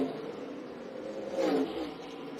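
A NASCAR K&N Pro Series West stock car runs laps at Kern County Raceway Park, its engine a steady mid-pitched drone that swells briefly as it passes near, with no talk over it.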